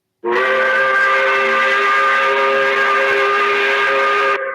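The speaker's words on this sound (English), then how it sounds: "We celebrate it by blowing the 5 o'clock whistle." A loud steam factory whistle, the five o'clock whistle at a plant, blows one long steady chord for about four seconds, then cuts off abruptly.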